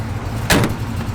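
A 1955 Chevrolet Nomad door gives a single solid, close-up metallic thunk midway through a quiet stretch, with no talking.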